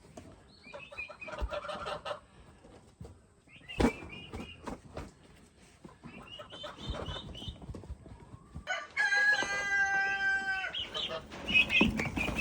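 Poultry clucking and calling in bursts, with scratching and rustling between, and a stretch of busier, louder gobbling-like calls near the end.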